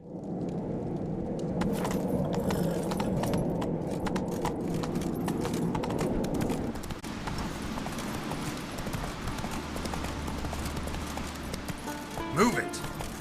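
The Witcher 3 horse Roach gallops with steady, rapid clip-clopping hooves that carry through the whole stretch, loud and close. Speech is heard over the hoofbeats, and a brief sharper sound comes near the end.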